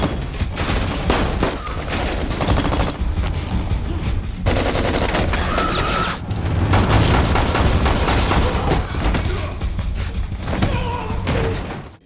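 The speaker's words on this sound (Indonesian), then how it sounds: "Di sini adu tembak antara Miguel dan Antek Gomez pun tak terhindarkan." Gunfight in an action movie scene: dense bursts of rapid machine-gun and pistol fire with heavy thuds and impacts, loud and continuous, laid over a busy dramatic soundtrack throughout.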